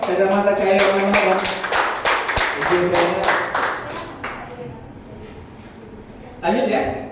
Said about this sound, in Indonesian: Boleh tepuk tangan dulu dong buat kacamata kayu nano.